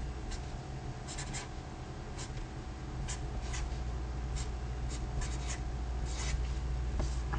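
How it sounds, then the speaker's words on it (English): Pen writing a word on the front of a card, heard as close, faint scratchy strokes in short clustered bursts over quiet room hum, with no one speaking. "I'm going to write a word down on the front of this card."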